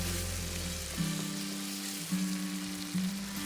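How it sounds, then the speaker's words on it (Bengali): Spice masala for chhana (paneer) biryani sautéing in a pan, a steady close sizzle with soft stirring scrapes, alone with no talk over it. "এরপর আমি আরও পাঁচ মিনিটের মতো ভালো করে কষিয়ে নিব"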